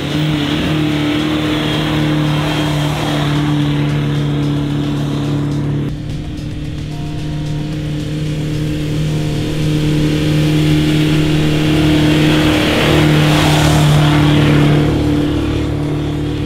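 Car engine with a throttle controller dialed up, revving loudly and continuously while pushing through soft sand, a steady droning roar with a brief dip midway before climbing again.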